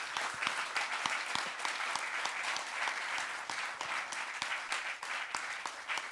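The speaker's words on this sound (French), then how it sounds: "je voudrais qu'on l'applaudisse, s'il vous plaît." An audience applauds a speaker at a French-language event, dense sustained clapping with sharp individual claps standing out, steady and fairly loud across the whole stretch.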